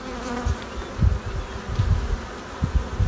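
Honeybees buzzing close up at a hive kept by a small-scale beekeeper, a dense steady drone with uneven low surges and no voices.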